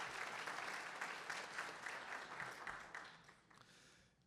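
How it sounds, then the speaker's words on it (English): Audience applause at a Chicago Mizrachi Yom Yerushalayim 2024 gathering, a dense steady wash of many hands clapping that holds for several seconds and then tapers away near the end. "That deserves applause."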